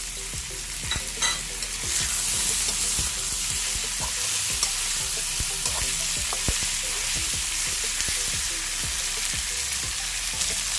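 Eggplant fries in a pan with oil for kangkong and tofu in oyster sauce. It sizzles loudly and steadily, with frequent scraping and stirring clicks from a utensil, close up.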